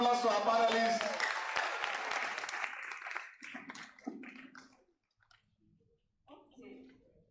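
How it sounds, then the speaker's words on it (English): Audience applause for panelists at a business and policy summit in Lagos, loud and dense for about three seconds, then thinning into scattered claps and dying away, with a few faint voices near the end. "A round of applause for our panelists."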